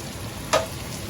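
Tuna steak laid into melted butter in a hot pan, a brief burst of sizzle as it hits the fat, then quiet steady frying.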